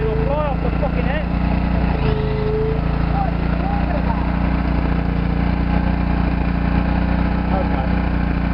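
A Lister Petter AC2W diesel engine runs steadily with a constant low drone and hum throughout, while people talk over it nearby.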